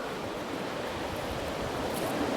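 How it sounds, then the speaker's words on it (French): A waterfall beside the GR10 trail near Bidarray in the Basque Country rushes as a steady, broad wash of water noise, constant and moderately loud with no voices. "Et ici, vous voyez une cascade."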